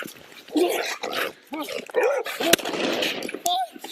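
A dog barks in short bursts during a tense police confrontation, its bark mixed with shouting voices and scuffling, close and loud.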